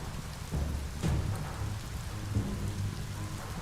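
Steady rain pours with low thunder rumbles in the video game Biomutant, a dense constant hiss with heavier rolling swells around the middle, no voices.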